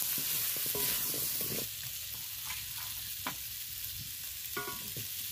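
Kohlrabi and green chillies fry in oil on very low heat, a soft steady sizzle with occasional stirring scrapes and clicks, fairly quiet and without speech.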